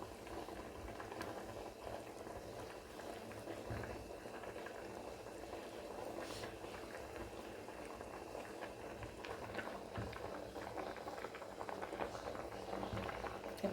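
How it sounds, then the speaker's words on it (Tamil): Tea bubbling at a rolling boil in a pot, a steady dense crackle and gurgle that continues throughout with no voices. "எப்படி கொதிக்குது பாருங்க,"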